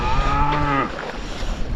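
A cow lows loudly and close by, calling for her calf beside the River Tweed, one long drawn-out moo that trails off into quieter background noise.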